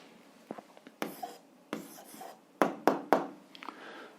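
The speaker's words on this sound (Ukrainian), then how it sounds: "Ну що ж, записуємо відповідь." Pen strokes scratch across paper as an algebra answer is written by hand, in quick short bursts with small pauses, close and fairly quiet with no talking.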